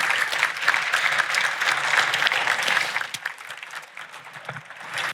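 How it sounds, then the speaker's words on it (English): Sustained applause from an audience at an automotive awards event, dense clapping that stays loud for several seconds before thinning out toward the end. "Could we give that a big round of applause"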